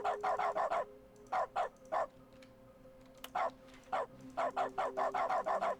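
Repeated dog barking in dog mode of The Stanley Parable video game, clustered rapid barks in several bursts separated by short pauses, clear and close.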